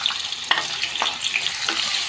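Chopped onion for tempering frying in hot oil for a Malvani prawn curry, a steady close sizzle with a few sharper crackles and stirring clicks.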